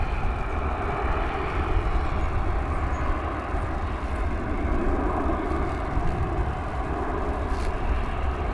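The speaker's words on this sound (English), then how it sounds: "Meanwhile, we have another one of these Ameriflight cargo planes." An Ameriflight cargo plane at DFW Airport produces a steady, broad engine roar that holds evenly throughout, moderately loud and distant-sounding, with no voices.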